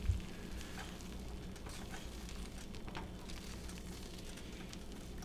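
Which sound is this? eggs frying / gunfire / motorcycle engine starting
eggs frying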